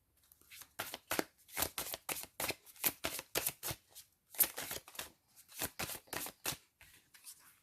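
Tarot cards are shuffled close up in a steady series of crisp riffling bursts, each lasting under a second and separated by short pauses, with no voice over them.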